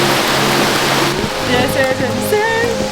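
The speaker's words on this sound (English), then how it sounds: "The rain's pouring, the waterfalls are just behind me." Heavy pouring rain and a jungle waterfall close behind in Langkawi, Malaysia, make a steady broadband roar throughout, with a voice talking over it.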